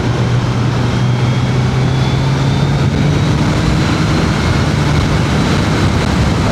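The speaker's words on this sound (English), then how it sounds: "it's such a smooth engine, no vibrations." 2026 Suzuki Hayabusa Special Edition motorcycle engine running smoothly at a steady pitch, a loud continuous drone with a low hum and wind rush from riding on the road.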